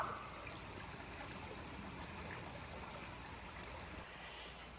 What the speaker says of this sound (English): A little bit more water flow in here. Love that sound.